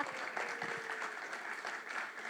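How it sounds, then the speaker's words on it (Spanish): Faint, distant applause from a small gathering at a devotional, a steady soft patter of clapping throughout with a faint tone running underneath. "Un aplauso."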